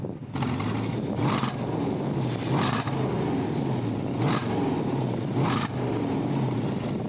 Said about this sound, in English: give it a rev, Alex.